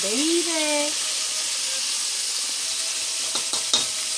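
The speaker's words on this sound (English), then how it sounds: "We are frying chicken" Steady, crackling sizzle of chicken frying in hot oil in a pan, close and continuous, with a few brief clinks near the end.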